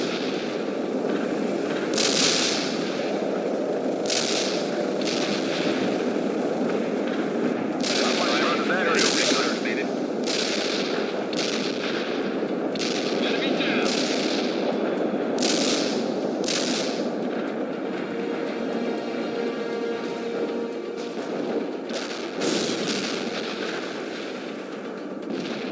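Continuous battlefield din from the video game World in Conflict, with repeated artillery and gunfire blasts over a dense rumbling background, some bursts close and loud, others distant, mixed with radio-style voices.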